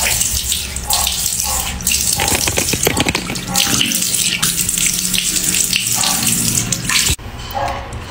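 Water runs steadily from a tap into a sink as soap is rinsed off, a loud continuous splashing rush with brief shifts in flow. Faint speech may be present underneath.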